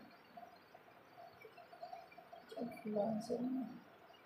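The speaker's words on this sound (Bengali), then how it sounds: "আবার একটা পায়রা এসে বসেছে" Soft, low cooing from a pigeon perched on a balcony rises and falls for a few seconds, faint and somewhat distant over a dull background of rain outside.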